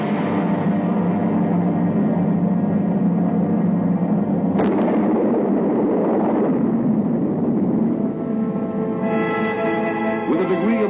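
280 mm atomic cannon firing at the Nevada Proving Ground in 1953: a heavy, continuous roaring rumble with a sharp crack partway through, loud and distant-sounding on an old film soundtrack.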